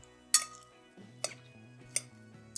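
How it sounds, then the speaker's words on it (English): Metal utensils clinking against a bowl while dressing is stirred into a salade niçoise, a few sharp, quiet clinks spaced irregularly over low background hum. "Give it a good stir."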